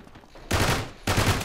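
Gunfire from the Uncharted 3 multiplayer beta: two sustained loud bursts of rapid shots, the first starting midway and the second after a brief gap, with no talk over them.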